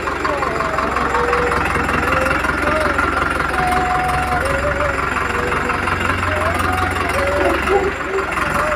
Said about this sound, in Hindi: वड्डे तो वड्डा ट्रैक्टर लेके आया था फार्म ट्रक 655